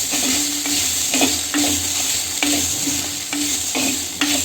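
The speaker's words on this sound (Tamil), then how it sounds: "இது எல்லாத்தையுமே நல்லா சேர்த்து நல்லா வதக்க போகிறோம்" Shallots, garlic and grated coconut sauté in a pan for coriander seed chutney, with a steady sizzle broken by regular scrapes and knocks of a spoon stirring every second or so.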